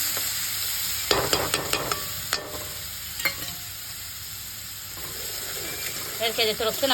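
Garlic paste sizzling as it fries in a pan with turmeric, a steady hiss broken by sharp stirring clatters and scrapes, with a brief pour near the end.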